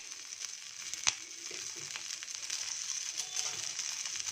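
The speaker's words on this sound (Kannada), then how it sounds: "ಇದು ಹಸಿಮೆಣಸಿನ್ಕಾಯಿ, ಇವೆರಡನ್ನೂ ಚೆನ್ನಾಗಿ ಬಾಡಿಸ್ಕೊಳ್ಳೋಣ ಮೊದಲಿಗೆ" Ganike greens and green chillies sauté in a pan with a soft, steady sizzle. A single sharp click stands out early, followed by faint stirring scrapes throughout.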